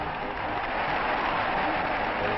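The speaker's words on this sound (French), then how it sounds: "Les spectateurs applaudissent les Français dont la victoire ne fait déjà plus de doute" Spectators at a 1938 World Cup football match applaud the French team, a continuous dense wash of clapping from a large crowd, steady and even in loudness throughout, with the thin, muffled quality of an old recording.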